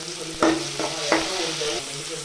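Onions and curry leaves frying in hot oil with cumin: a continuous close sizzle broken by two or three sharp spatula scrapes and knocks against the pan, fairly loud, no voices.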